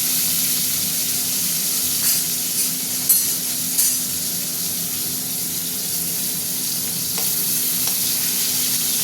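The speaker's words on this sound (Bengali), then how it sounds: "তেল গরম হয়ে গেছে, পটলগুলো দিয়ে দিচ্ছি, সব একসঙ্গেই ভাজবো" Pointed gourd (potol) sizzles in hot oil in a large kadai, a continuous close frying hiss with a few soft clinks of stirring now and then.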